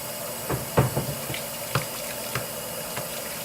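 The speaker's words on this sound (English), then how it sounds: "let me wash my hands as usual" Hands washed under a running kitchen water tap: steady gushing water with soft splashes and a few knocks against the sink, close and alone.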